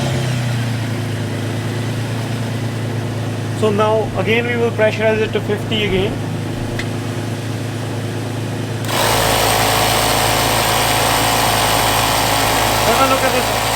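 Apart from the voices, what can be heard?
truck engine starting up and idling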